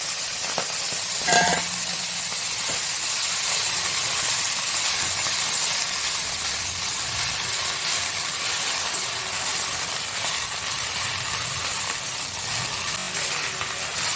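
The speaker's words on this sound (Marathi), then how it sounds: "मेथी थोडीशी परतून घ्यायची।" Fenugreek leaves sauté in a hot pan with a steady, loud, continuous sizzle and hiss, broken only by a brief scrape of a spoon near the start.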